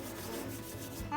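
Hands rub briskly together to shed sticky pizza dough, a short, soft, dry friction rustle heard close and alone.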